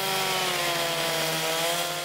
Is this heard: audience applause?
no